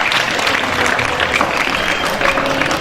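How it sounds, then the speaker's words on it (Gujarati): An audience at a school health programme event applauds to welcome a guest, a steady wash of clapping at moderate loudness throughout. "તાળીઓથી મિત્રો આપણે વધાવી લઈશું એમને પણ."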